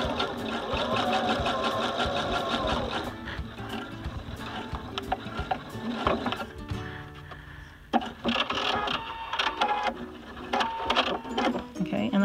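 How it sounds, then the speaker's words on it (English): A sewing machine sews the sides of a six-panel fabric ball, stitching from one marking to the next in rhythmic bursts that stop and restart, with some quiet talk between runs. "So we're going to be sewing from one marking spot to the other and then pinning the next side."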